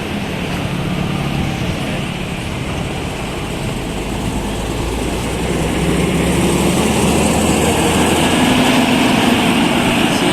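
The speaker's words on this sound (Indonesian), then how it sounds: "Sedangkan ini mesinnya 1836 yang hari ini akan berangkat menuju kota Medan." Bus engine number 1836, set to depart for the city of Medan, runs in a loud, steady drone that grows slightly heavier partway through, with no voices over it.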